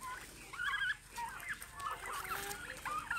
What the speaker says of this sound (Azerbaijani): Toyuqlarım görürsüz? Toyuqlarımdır, bunlar da hinduşkalarımdır.